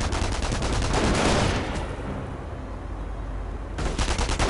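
Dense bursts of rapid gunfire and machine-gun rattle from the World War II strategy game Company of Heroes, loud and sustained, dropping briefly to a muffled lull before the firing surges back.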